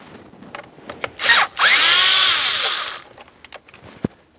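A power driver whirs as it backs T20 Torx screws out of a panel on a 2015-2025 Ford Transit 250, a short burst followed by a longer steady run at close range, with light clicks and handling noise around it.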